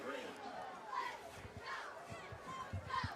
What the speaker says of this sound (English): this crowd's excited